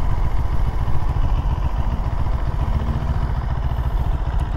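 A CFMOTO 700CL-X Sport motorcycle pulling away from a standstill, a loud, close, rumbling engine with a steady low throb and some wind buffeting, continuous throughout with no talking.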